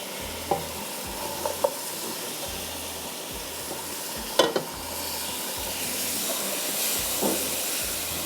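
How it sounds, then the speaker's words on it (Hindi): Beef pieces sizzle and steam in a pan of ginger garlic masala for degi nihari, with a few sharp scraping clicks of a spoon stirring the meat over a steady frying hiss. "इसके अंदर मैं गोश्त डाल के भूनती हूँ"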